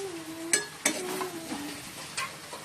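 Prawns stirred into a jackfruit and potato curry in a pan, with a low steady sizzle and several sharp scrapes and clinks of the utensil against the pan, no one talking.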